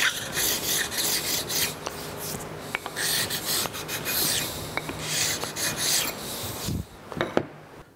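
Turcite is hand scraped on the cross slide of a Monarch lathe, a run of rapid rasping strokes with short pauses and faint metallic clicks, close up and without talk.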